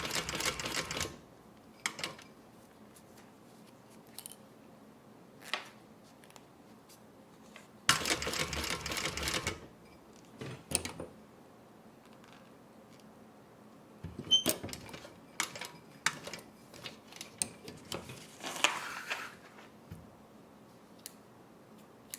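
Thread is drawn by hand through a rolled bag handle, heard as quiet ticking pulls and scattered rustling bursts separated by near-silent pauses.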